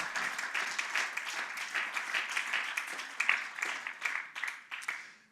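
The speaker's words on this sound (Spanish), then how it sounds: "Un aplauso fuerte al Señor." Congregation applause during a Spanish-language church sermon, rhythmic clapping in pulsing bursts from a gathered crowd, fairly quiet and distant, continuing steadily before fading.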